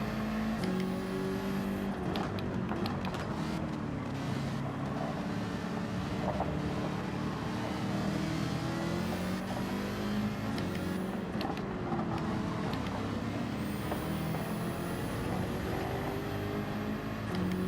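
Race cars, including a Ferrari, accelerating in Gran Turismo 7 during a Manufacturers Cup race, with engines droning steadily and rising in pitch through gear changes, a continuous loud engine bed throughout without talk.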